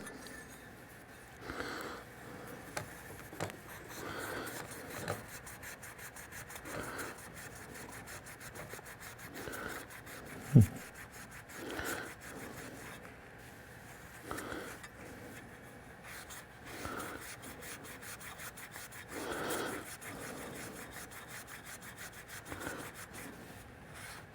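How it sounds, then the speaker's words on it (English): A metal guitar pickup cover is scrubbed with a Scotch-Brite pad in quiet, repeated rasping strokes, close and soft, with one sharp knock partway through. "a little Scotch-Brite will brighten that up pretty well"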